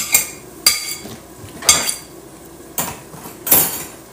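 A metal utensil clinks against a dish while mixing vermicelli with meat, five sharp scraping knocks spaced across the few seconds, close and fairly loud with no talk.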